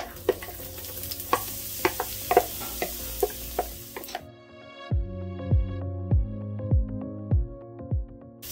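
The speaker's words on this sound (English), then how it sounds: "So now we're just gonna saute this until it gets a little translucent" Chopped onions sizzle and fry in a pan, stirred with a utensil that scrapes and taps in steady strokes; the frying hiss fills the first half, followed by a run of rhythmic knocks as stirring continues.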